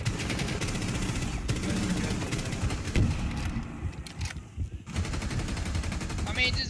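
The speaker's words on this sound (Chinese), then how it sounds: "我帮油柱挡子弹" Rapid gunfire from the video game Rainbow Six Siege sounds as dense, continuous volleys that briefly thin out midway, with game noise and faint voices mixed underneath.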